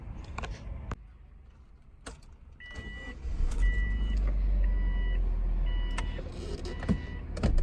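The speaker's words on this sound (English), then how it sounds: "So this Subaru is one of them. So let's drive home." A Subaru car bought at auction, driven away, heard from inside the cabin as a low, steady engine and road hum, with several sharp clicks and a few repeated beeping tones, no talking.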